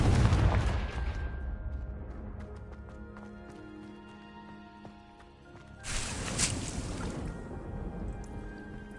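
A Confringo blasting spell from the Hogwarts Legacy video game bursts loudly about two-thirds through, following an earlier loud rumble at the start and a stretch of quieter game ambience with scattered clicks.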